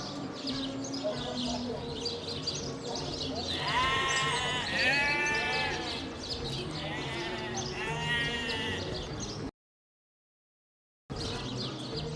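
A sheep bleats several times in the Divinity Original Sin video game, wavering calls standing out over ambient game sound and faint birdsong, with a short cut to silence near the end.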